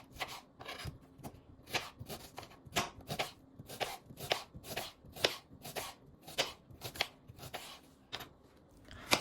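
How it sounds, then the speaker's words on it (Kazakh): A knife slices two onions lengthwise into thin strips on a cutting board, with about eighteen crisp, evenly spaced chops over nine seconds and no talking. "Осылай ұзынша қылып турап шығамыз"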